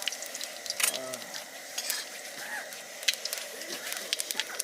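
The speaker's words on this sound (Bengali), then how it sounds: "ফোড়নের জন্য একটু তেজপাতা আর একটু গোটা জিরে দিলাম" Bay leaves and whole cumin crackle and sizzle in hot oil while cooking at a forest campsite on a cold night, a steady close hiss with brief sharper pops and spatters throughout.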